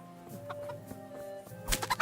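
Chickens clucking in the medieval game Kingdom Come Deliverance while being punched: soft scattered clucks over a low ambient hum, then a sudden loud flurry of squawks near the end.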